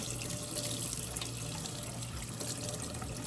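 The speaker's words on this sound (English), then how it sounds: "Take my work and I'm gonna put it directly under warm water." Warm tap water runs steadily over an embroidered flannel piece under a faucet, giving an even, close splashing rush with small trickling variations. No voices are heard.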